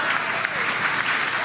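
Sustained applause fills a political party convention hall, a dense, steady wash of clapping that holds evenly throughout, with faint voices mixed in underneath.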